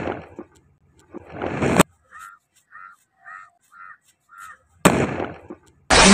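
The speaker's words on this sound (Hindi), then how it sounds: "ऐसे ऐसे पटाखे फोड़ने के लिए ये बनाया है पुराने बैडमिंटन से" Firecracker set off with a homemade launcher made from an old badminton racket during Diwali celebrations, sharp loud bursts at the start and end with a string of short chirping crackles between them.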